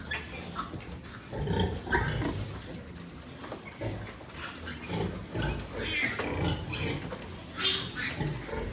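Pigs, sows and piglets on a farm during farrowing, grunt and snort repeatedly at close range, irregular bursts of rough grunting amid pen noise, with faint voices in the background.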